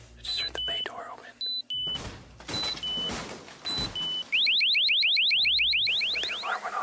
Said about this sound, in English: the alarm went off and I think it scared him off